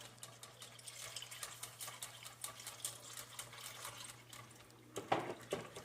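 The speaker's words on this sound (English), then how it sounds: "I'm going to add some water." Water streams steadily into a pan for a roux, a soft continuous pour with a low hum underneath and a brief louder splash near the end.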